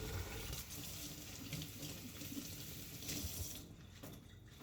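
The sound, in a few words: washing hands under a running sink tap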